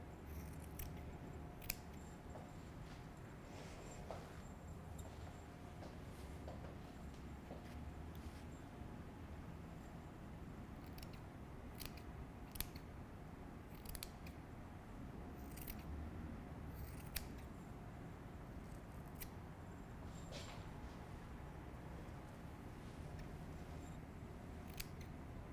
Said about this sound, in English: Make sure you're grabbing the whole piece from the bottom up when you start to trim.